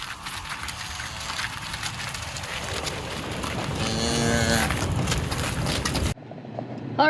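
Cattle that have broken out of their paddock near a road moo repeatedly, loud and drawn out, over steady outdoor rumble and wind. The sound cuts off abruptly near the end.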